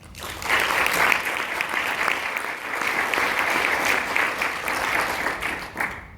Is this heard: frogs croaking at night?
no